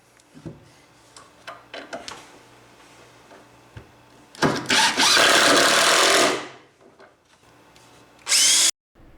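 A power drill driving screws into wooden boards whirs in a loud sustained burst, then a shorter one, with scattered knocks and handling noise before.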